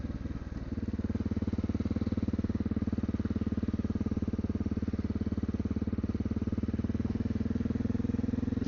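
A Honda XR650L single-cylinder motorcycle thumps steadily while riding country back roads in the Ozarks, its pulsing engine loud and constant with wind rush, no talk over it.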